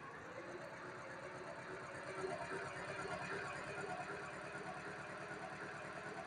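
A car engine idles steadily after a brief rev, a low even rumble with a regular pulsing beat, close and moderately quiet, with no talking.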